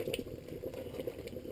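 Mung bean filling bubbling in a pot of water as it thickens toward a paste, a dense, close, steady burble of popping bubbles at moderate level.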